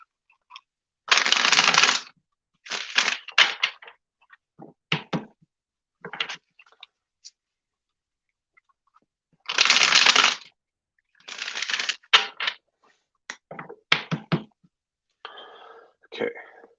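A Mystic Monday tarot deck is shuffled close by in several short bursts of riffling, rustling cards separated by quiet pauses.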